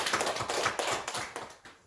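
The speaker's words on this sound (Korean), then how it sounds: "우리 박수 한번 하겠습니다" A church congregation applauding at a harvest thanksgiving service, a steady patter of many hands clapping at close range that fades out toward the end.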